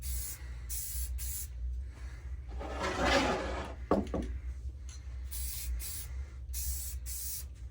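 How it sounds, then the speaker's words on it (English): A can of high gloss white spray paint hisses in a short burst of about a second while light coats go onto a Nintendo DS shell, followed by a quick clack and quiet room noise. "Again, I am using high gloss white spray paint."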